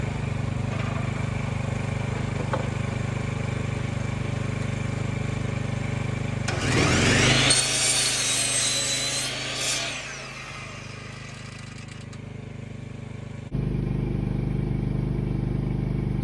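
A power saw set for a bevel cut spins up with a rising whine and bites into wood for a sawhorse, cutting for a few seconds before winding down over a steady background hum.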